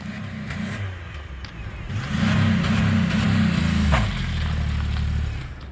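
NYC police car doing a burnout, its engine revving hard in a loud, sustained roar that swells midway and holds steady near the listener.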